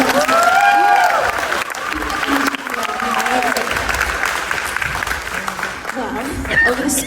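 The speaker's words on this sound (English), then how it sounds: "Can we get a round of applause?" A TV studio audience at a country singing competition finale bursts into loud, sustained applause with scattered cheers and whistles, while a host's voice talks over it throughout.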